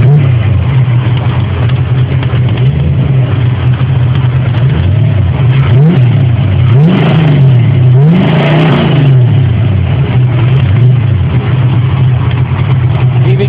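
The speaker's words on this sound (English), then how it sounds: "This is the motor, all MSD ignition, custom exhaust." A 1983 Ford Mustang GT 5.0 V8 with MSD ignition and a custom low exhaust idles loudly close up, then is revved in repeated swelling blips before settling back to a lumpy idle.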